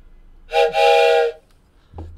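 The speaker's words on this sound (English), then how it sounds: "Train whistle." A train whistle sounds in two loud, close blasts, a short toot followed by a longer sustained tone, then quiet background with a faint low rumble.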